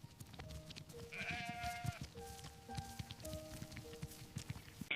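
Sheep bleat inside a farm enclosure, several wavering calls overlapping through the moment with soft shuffling and movement beneath them at moderate distance.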